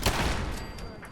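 A gunshot in the video game Fallout 4, a single sharp blast at the start that trails off into a fading rumble.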